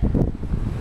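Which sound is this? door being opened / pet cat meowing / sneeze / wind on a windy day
wind on a windy day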